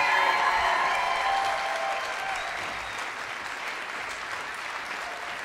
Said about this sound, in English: And one more round of applause for the Utah Tech Symphonic Band,